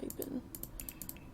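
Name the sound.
typing on a computer keyboard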